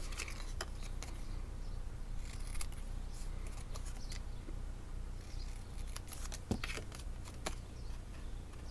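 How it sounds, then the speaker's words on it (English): Scissors cut paper along dashed lines on a craft album binding, giving faint, repeated snips at an irregular pace over a quiet background. "I now have these dashed lines that I'm just going to cut up and go up that one and down that one."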